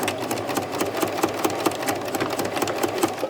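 A sewing machine back-stitches fabric scraps for a choker, running steadily up close with a fast, even mechanical whir and rapid needle clatter and no talking.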